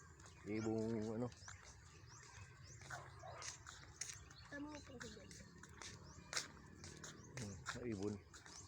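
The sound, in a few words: birds chirping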